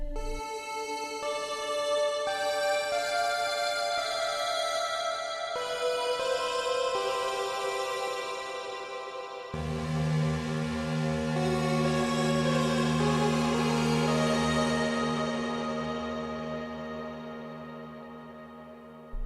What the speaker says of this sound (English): raw NES sound in our studio plate reverb that we have set up